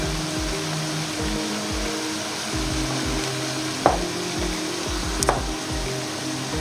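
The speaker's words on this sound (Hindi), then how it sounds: "प्याज को ज़्यादा फ्राई नहीं करना, बस हल्का हल्का फ्राई करना है।" Onions fry gently in hot oil for okra, a steady, even sizzle with a couple of sharp clinks from a utensil partway through.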